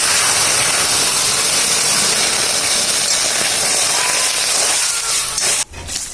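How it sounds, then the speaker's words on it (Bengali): Hot fried mung dal in a pan hisses and sizzles loudly and steadily as water is poured over it, the noise dropping off abruptly near the end. "এখন মা জল দিয়ে দিবে সিদ্ধ করার জন্য"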